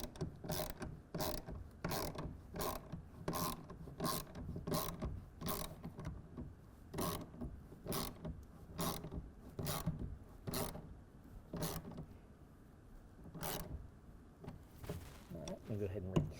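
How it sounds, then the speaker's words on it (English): A hand ratchet with a 1/2 inch socket clicks in quick, regular bursts of close pawl ratcheting while tightening a side clamp on a RealTruck UnderCover Ultra Flex hard folding tonneau cover, pausing between strokes. "we're going to go ahead and tighten that down with a 1/2 inch socket and ratchet to 10"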